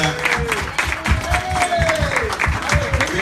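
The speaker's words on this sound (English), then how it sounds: "Everybody give her a hand clap." Live podcast audience clapping for a guest, a short loud burst of applause mixed with cheering voices and talk from the stage over it.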